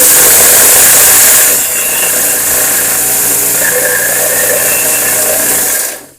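A homemade grain crusher built from a cooking pot and an angle grinder runs steadily at close range, giving a loud continuous motor whine and rattle with a slight drop in pitch partway through before cutting off at the end.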